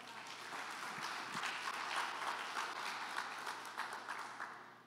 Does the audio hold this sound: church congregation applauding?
yes